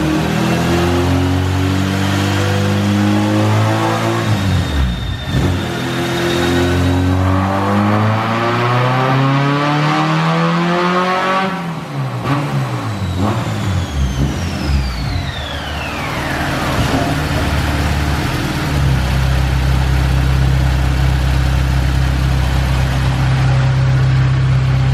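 A loud Honda K-series engine in an EK Civic on nitrous revs hard, climbing in pitch, easing off and climbing again, then settling into a deep, steady idle; no talking.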